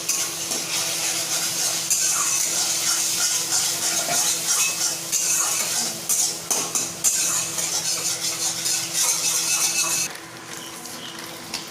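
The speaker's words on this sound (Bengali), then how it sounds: "ডিমটাকে আমি ঝুড়ো ঝুড়ো করে এখন ভেজে নেবো।" Scrambled egg frying and being stirred in a wok for chicken chowmein, steady sizzling with scraping and clattering of a utensil against metal throughout, louder and denser for most of the stretch before easing toward the end.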